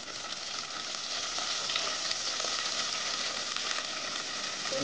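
Chopped onions fry in a hot pan for Mangalore-style prawn pundi, giving a steady, dense sizzle that runs unbroken and fairly loud from start to finish, with no voices.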